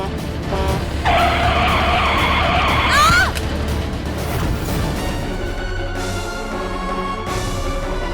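A car skids with failed brakes, a loud sustained tire squeal lasting about two seconds and ending in a sharp sliding screech, followed by lingering traffic and street ambience.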